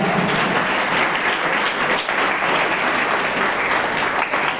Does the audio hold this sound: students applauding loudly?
yes